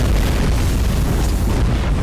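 Explosives detonating in the video game Sniper Elite VR, a loud, continuous booming rumble heavy in the low end that fills the whole stretch without a break, with no speech.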